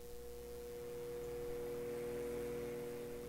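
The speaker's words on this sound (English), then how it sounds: "Fan is working, it's humming." Microwave oven fan humming steadily during testing of a unit that runs but fails to heat, a faint, even drone with a tonal whine and no other sounds.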